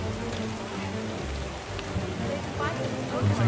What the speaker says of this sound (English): But let's switch on some rain.